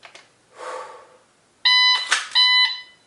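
A faint rustle, then two loud, sharp shot timer beeps in quick succession during dry-fire practice, close and piercing, with a brief noisy burst between them.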